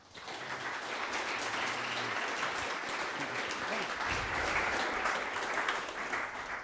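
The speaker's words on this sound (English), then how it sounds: "big round of applause for Simon Marlow" A tech conference audience gives a sustained round of applause for an incoming speaker, a broad, even wash of many hands clapping that holds at a steady level throughout.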